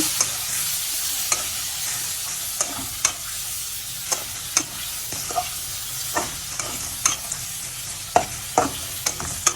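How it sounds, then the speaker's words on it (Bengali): Gourd peel and hilsa fish head fry with turmeric and chili powder, a continuous close sizzle broken by regular sharp scrapes of a spatula stirring the pan roughly every half second to second. "এখন আমি এগুলো ভালো করে ভেজে নিবো"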